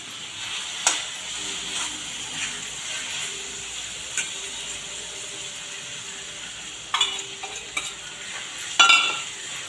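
Mutton keema fries in a pan under a steady low sizzle while a spoon stirs and scrapes, with a few louder metallic knocks against the pan near the start and toward the end.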